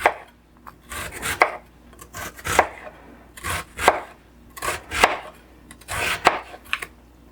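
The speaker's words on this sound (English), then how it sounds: "I cut it in half this way. And then I turn it this way. And I usually cut just kind of slices here." Sharp knife slicing through food on a cutting board at home, with repeated chopping strikes in uneven bursts, close and clear with no talk.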